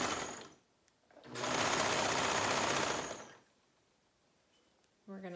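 A sewing machine stitching shirt fabric, a loud, close, steady mechanical whir lasting about two seconds between quieter stretches, with a voice starting to talk at the very end.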